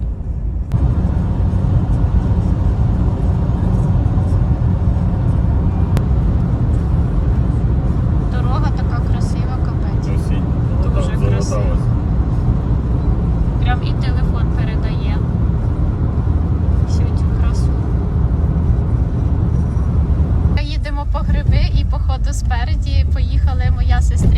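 Car driving on a road, a loud continuous engine and road rumble from inside the vehicle, with people talking over it and occasional rattles.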